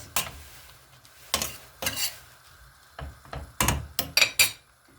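Salted minced meat sizzles quietly in a pot while a utensil scrapes and stirs in short, uneven bursts, clustering toward the end.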